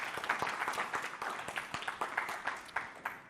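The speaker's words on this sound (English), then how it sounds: "round of applause for Scott." An audience claps after a lecture, a quiet patter of many hands that spreads across the room and fades slightly toward the end, with no one speaking over it.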